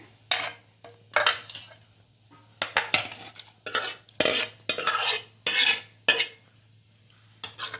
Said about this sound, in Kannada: ಈಗ ಮಿಕ್ಸ್ ಮಾಡ್ಕೊಂಬಿಡೋಣ ಬೇಳೆನಲ್ಲಿ.